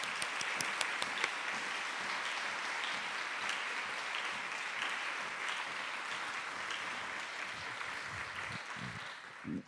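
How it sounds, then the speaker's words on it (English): Audience applause for the Silk Road Ensemble at a symposium marking the centenary of The Rite of Spring, a sustained, dense wash of clapping from a large crowd that holds steady for nearly ten seconds before tapering. "I'd like to just acknowledge the whole Silk Road Ensemble, if we can just applaud for them for their incredible time here."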